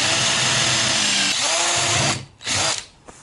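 A power drill whirs steadily at high speed as it works out the pins on a Citroën Traction 11/15 steering rack, then cuts out in two short stops near the end.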